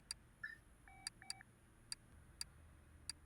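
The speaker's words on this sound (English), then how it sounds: "So if you just have that little beep, that's the telephone." A small telephone beep from Car Mechanic Simulator 2018, sounding as short, faint, evenly spaced high electronic pips over quiet background hum.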